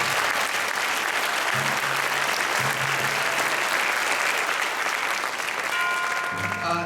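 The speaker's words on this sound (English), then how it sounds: "If we could give them a round of applause, please" Steady, dense applause from a concert audience for a student band after a performance, many hands clapping loudly for the whole stretch, with a few brief tones and voices faintly underneath.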